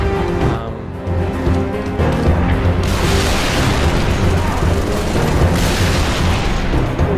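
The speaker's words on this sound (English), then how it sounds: "we've got Buck on the rocket launcher at least." Rocket launcher blasts in the video game Halo 3: ODST, heavy booming explosions rolling into a continuous loud roar of battle, dense and close, with no talk.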